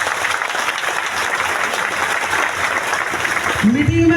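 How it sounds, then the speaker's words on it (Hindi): An audience at a mega event in Latehar, Jharkhand, clapping enthusiastically, a dense close burst of applause that fades as a voice begins speaking at the end. "तो नंबर 1 के लिए जबरदस्त ताली होना चाहिए।"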